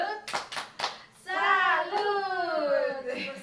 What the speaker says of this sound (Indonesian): Tepuk salut buat Bu Iva